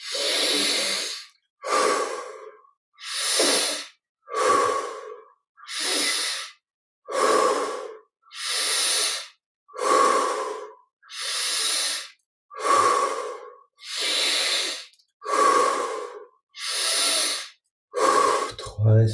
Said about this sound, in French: encore 10 respirations, prenons un peu plus d'air si on peut à chaque respiration